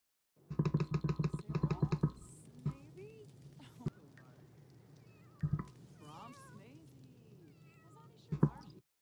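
A cat meows several times in quick succession in a mystery video game, loud and close at the start, with further single meows scattered later over quiet ambient game sound.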